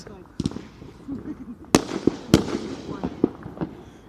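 Fireworks and firecrackers going off outdoors, with several sharp bangs scattered across a few seconds, two standing out loudest, amid softer crackles and nearby voices talking.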